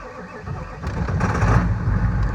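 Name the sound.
OBS 7.3 diesel truck engine cold start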